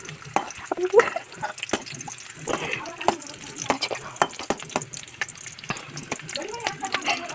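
Chopped onions frying in hot oil in a pan, a soft sizzle under irregular scraping stirring strokes, with some faint background voices.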